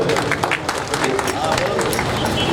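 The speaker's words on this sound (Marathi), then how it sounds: "जोरदार टाळ्या झाल्या पाहिजे" A crowd applauds loudly at a felicitation ceremony during an Eid Milad gathering at an Idgah mosque in Bodhegaon, with dense, steady clapping throughout and crowd chatter mixed in.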